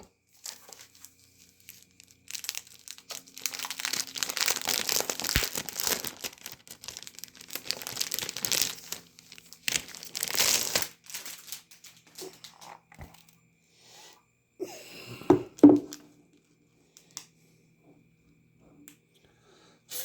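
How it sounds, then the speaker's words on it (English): Crinkling and rustling of a plastic sleeve as a 1966 comic book is slid out of it, giving close, soft, irregular crackles in scattered bursts with quiet gaps. "I'll pull this out of plastic."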